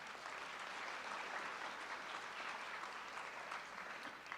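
An audience at a high school athletic signing ceremony applauds in a continuous wash of clapping that sounds soft and distant.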